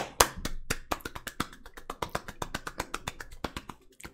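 A single person claps steadily and rapidly, a long run of crisp, close hand claps that slow slightly toward the end, with no voices.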